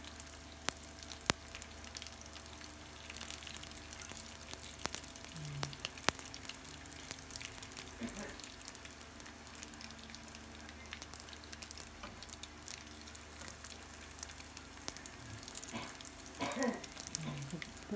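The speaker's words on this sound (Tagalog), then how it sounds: "Piprito nyo lang yung lumpia wrapper chips." Lumpia wrapper chips fry in hot oil, giving a steady, faint sizzle with scattered crackles and pops that continue evenly throughout.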